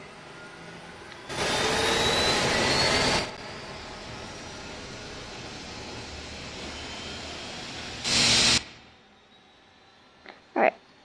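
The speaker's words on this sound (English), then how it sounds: "that engine is now starting" Boeing 737-800 jet engine starting in a flight simulator game, heard as a whooshing, vacuum-like spool-up roar that swells, holds and drops off, with a second brief surge later before quieter clicks.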